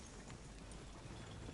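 Horses clip-clop at a steady gait in the Red Dead Redemption video game, a quiet continuous patter of hooves with nobody speaking.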